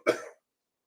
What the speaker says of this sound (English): I'm going to mute and cough.